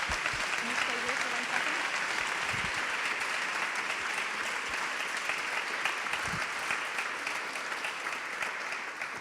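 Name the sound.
audience applause at launch event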